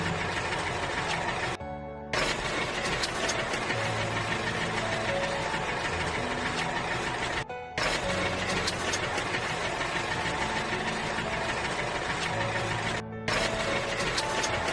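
A tractor engine runs with a loud, steady, knocking chug that continues throughout, broken only by a few very short gaps of silence.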